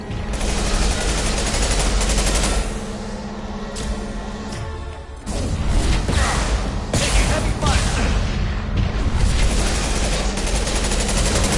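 Dense gunfire from the video game Mass Effect 2 rattles almost nonstop in sustained automatic bursts, loud and close, broken by a brief lull before the barrage resumes, with some talk mixed into the combat.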